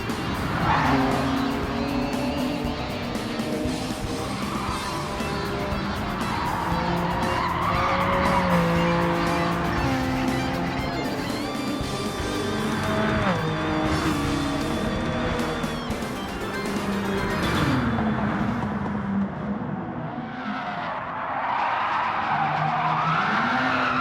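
Racing cars in Gran Turismo 7 skid through corners, tires squealing in long sliding wails over loud, continuous engine roar as the pack jostles through a street circuit.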